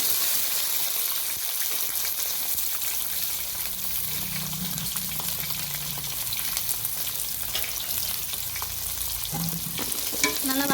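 Fenugreek seeds, curry leaves, coriander, garlic and shallots sautéing in hot oil for a fish curry: a continuous loud sizzle with scraping stir strokes, the crackle swelling as the ingredients are turned, with no talking.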